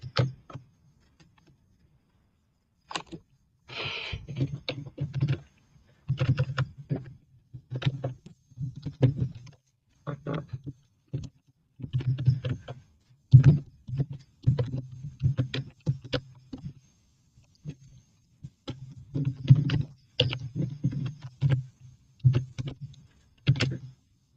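Pen strokes on paper, a teacher writing an Arabic phrase meaning the Book of Allah unites us, with short bursts of light scratching and tapping separated by pauses, close and fairly faint, no talking.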